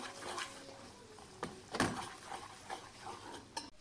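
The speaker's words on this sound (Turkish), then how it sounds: "Şöyle yine unumun da kokusu çıkana kadar şöyle biraz kavuracağım." Flour toasting in a pan for a penne sauce, stirred with faint, soft scrapes and occasional light clinks of the utensil, quiet and close with no talking.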